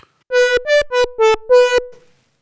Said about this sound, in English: And I know with the OB6, I can engage unison, which will make it sound like this.